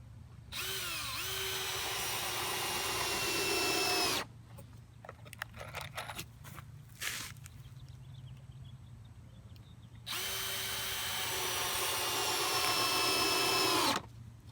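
Power drill driving screws into a floating dock block outdoors, two long high whining runs several seconds each with a pause of faint handling clatter between them.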